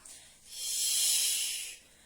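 A long, breathy exhale during a Pilates exercise with a small ring, a soft hiss close to the microphone that swells and then fades over about a second.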